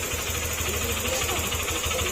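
A motorcycle engine with a crankshaft fault runs steadily up close, giving off a continuous rough, buzzing drone with a fast rattly pulse and no break in level.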